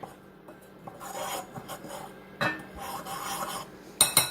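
Buffalo wing ingredients are stirred and scraped in a bowl in a small apartment kitchen, giving soft rasping, rubbing strokes with a few sharper clinks of utensil against the bowl near the end.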